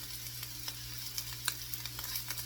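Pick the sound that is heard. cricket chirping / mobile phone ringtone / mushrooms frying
mushrooms frying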